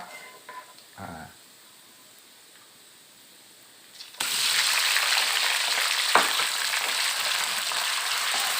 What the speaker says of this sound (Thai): เราใส่หมูได้เลยครับ หมูหมักครับ